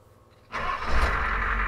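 A Ford OBS truck's 7.3 IDI diesel engine starts after a quiet moment, catching abruptly and settling into a steady, loud, rumbling idle close by.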